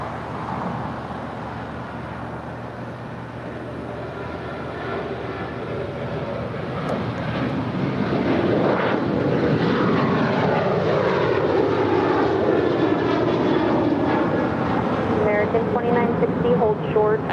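A United airliner, flight 2373 bound for Kailua-Kona, taking off from runway 25 right at LAX: a steady jet engine roar that swells loud and holds as the plane accelerates, with a shifting, sweeping pitch.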